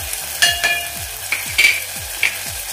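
Spices, red chilli, turmeric, coriander powder and garam masala, stir-fried on a low flame for dal bati: a quiet sizzle with several spaced spatula scrapes, close, no talking.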